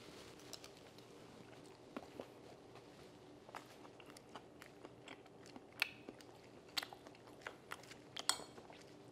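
Fried flounder with mixed vegetables and rice being eaten up close, quiet crunchy bites and chewing with sharper crisp snaps spread irregularly over a low background.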